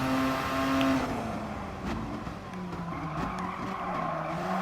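An RE Amemiya Mazda RX-7 FD3S in Gran Turismo Sport squeals its tires in a sustained skid during a time-trial lap at Tsukuba, the loud whine riding over a steady engine drone.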